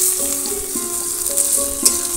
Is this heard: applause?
no